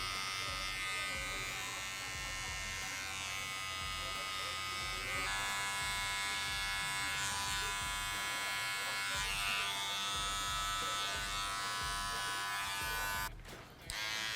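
An electric hair trimmer buzzes steadily and loudly up close during a mid-fade fauxhawk haircut, with a constant motor whine that dips briefly near the end, and faint talking underneath.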